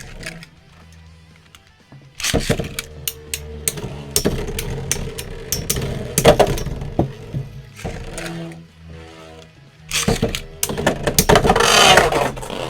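Midfake and Takara Tomy VARIARES Beyblades in left-spin defense mode clash in a stadium, with a launch rip followed by rapid metallic clicking, grinding and repeated sharp impacts over several seconds, then a second burst of collisions.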